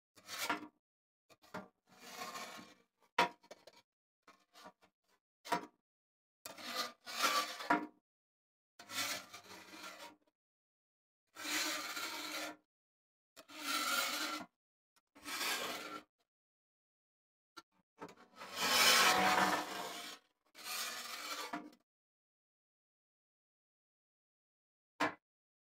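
Scrubber pad rubbed across a Blackstone griddle, a series of separate short scraping strokes, some longer and stronger, separated by silent gaps, close and alone.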